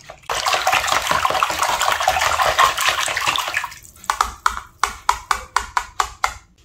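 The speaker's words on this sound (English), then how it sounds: "Now I'm going to take my whisk and just stir this until incorporated." A whisk stirs eggs, vanilla and melted butter in a bowl, first a rapid continuous wet swishing, then a run of distinct rhythmic clinking strokes against the bowl, close by with no talking.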